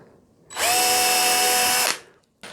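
A power drill fitted with a 2.5mm drill bit, working on a scratch-built guitar body, spins up with a loud, steady high whine for over a second, then winds down; close and alone.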